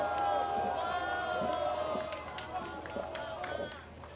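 Crowd at an outdoor Liberty Korea Party protest rally in Sinchon, Seoul, cheering and applauding: a steady wash of voices and clapping, loudest at the start and easing slightly, with faint tonal hum underneath.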